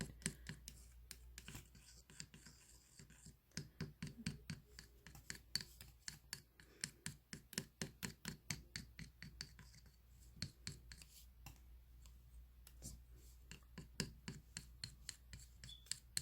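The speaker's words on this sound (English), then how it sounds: "It's still in pieces. So this is the tedious thing, just constantly stirring it up." Dried Colourpop Jelly Much eyeshadow being stirred by hand in a small container, a long run of quick, faint scraping and rubbing strokes in an uneven rhythm, close up with no talking.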